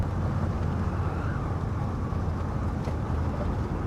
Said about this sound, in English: got a car coming up on us pretty fast